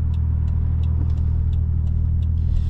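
Lowered Toyota JZX100 on stiff coilovers rolling over a bumpy road, giving a steady low engine and road rumble from inside the cabin with faint periodic clicks and knocks.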